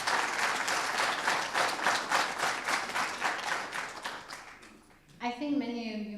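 Audience applause fills a speech hall in sustained, dense clapping from a crowd, tapering off before a voice begins speaking near the end.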